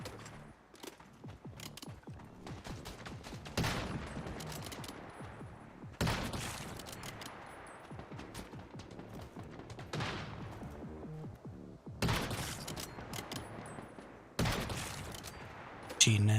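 Gunfire in the video game Once Human, including sniper shots, cracks out in repeated sharp bursts and single reports spaced a few seconds apart, with rattling fire and game noise filling the gaps between them.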